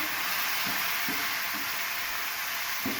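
Chicken tikka with red chilli and ground black pepper sizzles steadily in a pan, with a few soft rhythmic stirring thumps spaced through the continuous hiss and no speech.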